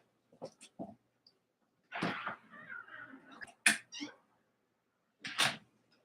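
Indoors, a dog whines to be let out with a few short, quiet whimpers and soft knocks in scattered bursts separated by silence.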